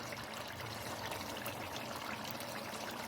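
Water poured into a pot of beef karahi, a steady, unbroken pouring hiss lasting a few seconds at moderate level, with no talk over it.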